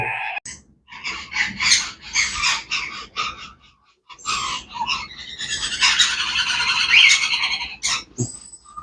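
An African grey parrot chick squawks and rasps loudly and almost continuously up close, with harsh bursts giving way to a long grating call.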